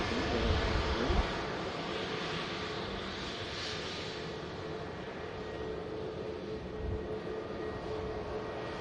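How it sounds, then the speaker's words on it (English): A British Airways airliner rolls for takeoff at Manchester Airport bound for London Heathrow, a steady distant jet roar that holds through the whole stretch with no talking. "British Airways on the roll back to London Heathrow"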